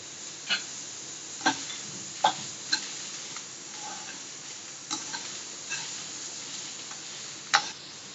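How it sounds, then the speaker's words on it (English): Whole chilies roasting in a spoonful of oil in a pan while making yam chutney: a steady close sizzle with scattered sharp pops and ticks every second or so, no voices. "Chilies, whole chilies, roast them."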